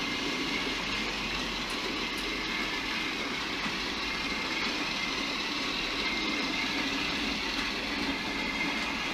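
Model railway locomotive, a class 33, drawing its train of stock into the loop of a layout yard, giving a steady close rumble and hum of motor and wheels with faint clicks and no talk.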